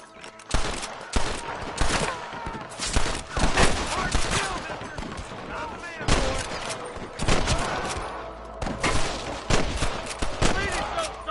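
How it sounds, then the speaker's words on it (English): Rapid gunfire in a Red Dead Redemption shootout, repeated bursts of shots cracking close and loud with overlapping fusillades throughout, while voices call out amid the fighting. "I can hear more gunshots."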